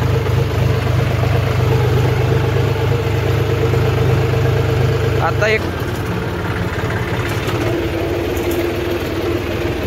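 Tractor engine running steadily and loud through the whole stretch with a low droning hum, while someone talks over it; light rain is falling outdoors.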